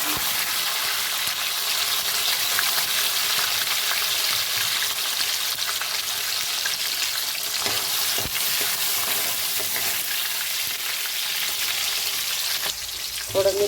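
Tomatoes fry in a mustard seed tempering for a drumstick pod dish, giving a steady, close, hissing sizzle that runs unbroken throughout with faint stirring scrapes and no talk.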